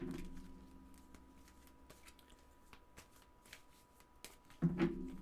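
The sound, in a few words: tarot cards being shuffled and drawn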